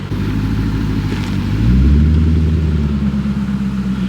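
A Lexus LS 460 sedan drives away with a low, steady engine hum that rises in pitch as it accelerates, close by at first with no talk over it.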